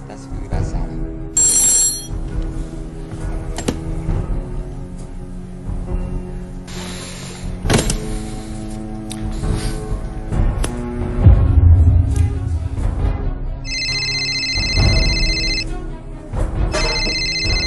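A phone rings in short bursts of electronic tones, interrupted several times, while someone talks and other game sounds carry on underneath.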